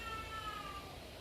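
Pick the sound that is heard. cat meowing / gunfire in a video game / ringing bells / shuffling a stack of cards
cat meowing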